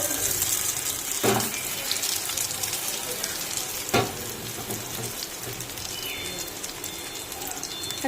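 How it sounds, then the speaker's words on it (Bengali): Beaten egg spiced with cumin and salt sizzles and crackles steadily in hot oil in a pan, close and continuous, with a couple of faint knocks. "ডিমটা দিয়ে দিচ্ছি, তেলটা গরম হয়ে গেছে।"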